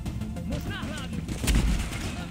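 Sniper gunfire in the video game Tom Clancy's The Division, a heavy booming shot standing out near the middle of a short stretch of dense, noisy game sound.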